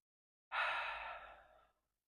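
A single long exhale during a guided yoga breathing exercise, a soft, airy breath out lasting just over a second, close and clear, starting abruptly and fading gradually into silence.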